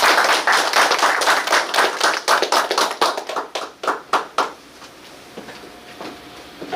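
An audience welcomes a guest speaker to a lecture with brisk, close applause that starts dense and loud, thins into scattered individual claps and then dies away into quiet.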